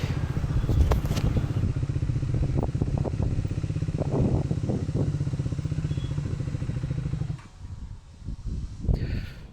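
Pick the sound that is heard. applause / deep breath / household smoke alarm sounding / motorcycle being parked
motorcycle being parked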